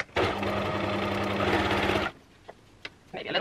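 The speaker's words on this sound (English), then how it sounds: "Probably should check the machine's going to sew the silk nicely first" A sewing machine stitching silk for a Victorian petticoat waistband runs in a steady, continuous mechanical whir for about two seconds, then stops, followed by a few faint clicks and handling noises.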